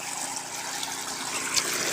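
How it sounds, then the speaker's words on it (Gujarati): Hands are rinsed in water outdoors at a farm field after spraying pesticide, producing a steady close splashing and trickling sound with no talk over it. "પહેલાં પાણીમાં હું ધોઈ નાખું"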